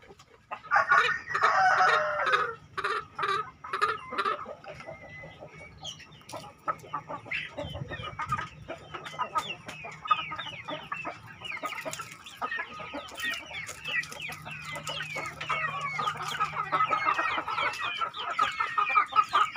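Four young free-range roosters in a backyard village-chicken setup crow and cluck repeatedly, overlapping calls close by and fairly loud, with no talk.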